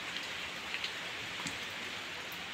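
Rain falling on a rainy day makes a steady hiss on surfaces, with scattered individual drops tapping close by. It carries on unbroken and no voices are heard.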